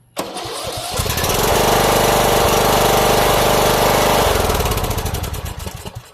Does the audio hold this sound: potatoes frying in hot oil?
no